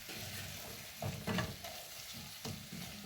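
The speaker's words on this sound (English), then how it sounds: "Crushed garlic. Going to stir that up nicely." Crushed garlic fries in a pan for a liver wet fry, sizzling steadily while a utensil scrapes and stirs it in several short strokes, close and fairly quiet.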